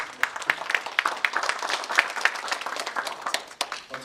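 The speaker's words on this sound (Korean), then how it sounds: "큰 박수로 서로 환영하겠습니다." Gwangju residents clap in welcome at an ecological culture village forum marking its tenth anniversary, a smaller crowd producing distinct, crisp claps at a fairly even pace.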